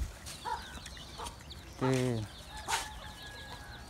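Chickens cluck close by in a backyard run, with several short clucks and one louder drawn-out call, while a person talks over them.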